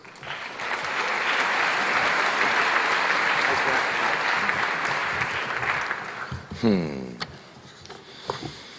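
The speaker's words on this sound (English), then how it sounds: "Each of you deserves a round of applause." A large audience applauds students at an academic all-star salute, dense sustained clapping that swells and holds for several seconds, then fades as a voice and a few stray claps follow.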